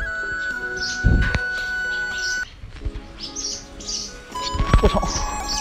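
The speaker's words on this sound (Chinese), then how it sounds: "怎么牛棚这么多燕子都掉下来了？" Swallows chirp inside a cowshed with short, high, bright tweets in scattered bursts, while louder knocks and rustling nearby break through the calls now and then.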